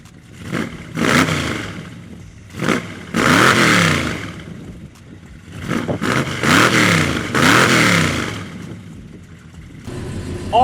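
A Chevelle SS V8 fires up and revs in repeated bursts, each rising to a loud, raspy roar and falling back to a rough idle between blips, close and alone with no talk.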